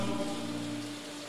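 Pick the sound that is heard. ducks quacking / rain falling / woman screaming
rain falling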